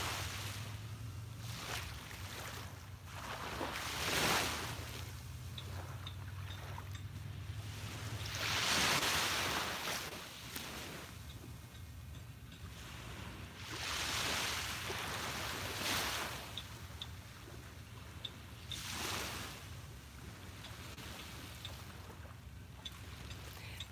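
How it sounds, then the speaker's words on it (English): Ocean waves roll onto a beach at sunrise, surging in repeated broad washes every few seconds over a steady background of surf and light wind noise, with no voices. "the sounds of the waves"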